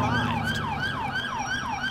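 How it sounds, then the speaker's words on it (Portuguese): Police car siren stuck on in GTA IV, a loud wailing tone sweeping up and down in a steady repeating cycle over low engine rumble. "E a sirene bugou, cara. Não quer desligar?"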